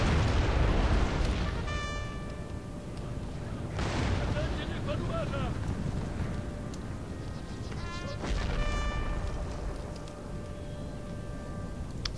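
Cannon artillery booms in a Napoleon: Total War battle during a Poland campaign with the DarthMod mod, with several heavy blasts spread across a dense, noisy wash of battlefield sound.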